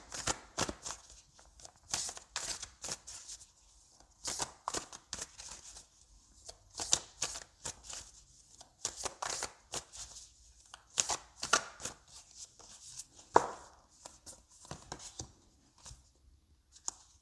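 Tarot cards are shuffled by hand in repeated soft riffling bursts, close and quiet, with short pauses between handfuls.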